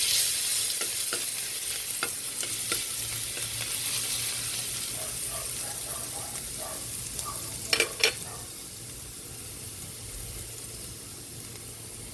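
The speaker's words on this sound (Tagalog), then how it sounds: "Magigisa na po tayo sa ating ginisang munggo." Chopped garlic sautéing in a pan for ginisang munggo (Filipino mung bean stew): a steady broadband sizzle holds throughout, with scattered stirring clinks and a couple of louder utensil knocks near the end, no talk.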